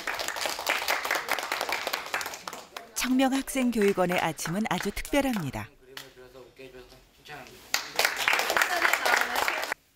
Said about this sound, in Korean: 박수 소리가 새어나오는 교실